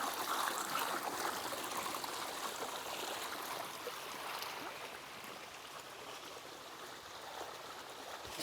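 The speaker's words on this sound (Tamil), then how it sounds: "2 பைப்லேயும் ஓடிட்டுருக்கு தண்ணி." Steady rush of water pouring from two pipes in a village, a continuous soft splashing flow heard alone at moderate-low level throughout.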